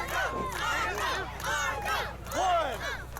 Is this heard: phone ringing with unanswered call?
no